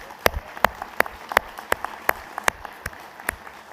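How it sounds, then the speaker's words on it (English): At the 2021 McFatter Technical College graduation, sharp, distinct claps for administrators, faculty and staff ring out in an even rhythm over a quiet, hollow room tone, sounding like a small group rather than a full crowd. "Let's give them all a round of applause."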